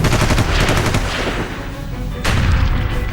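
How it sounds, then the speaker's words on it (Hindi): Dense, rapid gunfire with heavy booms from a police and army raid on the Saint-Denis district of Paris, loud and continuous, with a fresh burst of blasts late in the clip and no talk. "धमाके और गोलियों की आवाज।"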